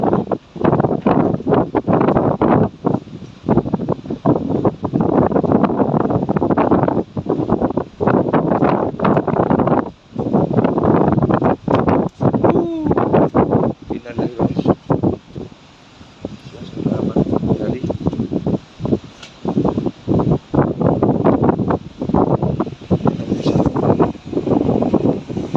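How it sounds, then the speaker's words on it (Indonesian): Strong wind gusts blow near Semeru volcano, roaring loud and close into the microphone in long buffeting surges with brief lulls, under a constant rumble. "Anginnya cukup kencang juga. Jadi embusannya seperti ini."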